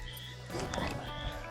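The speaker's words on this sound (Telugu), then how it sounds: "కప్పలు పిలుస్తున్నాయి అత్తమ్మ" Frogs croak in a steady outdoor chorus during cooking at home, a low continuous calling that swells a little halfway through and carries on without pause.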